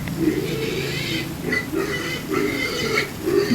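Pigs being bathed on a small farm grunt and oink in short repeated bursts, close by, over a steady background wash.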